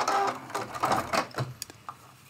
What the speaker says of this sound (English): Now I'm going to sew all the way around the whole outside with a 1/4 inch seam allowance.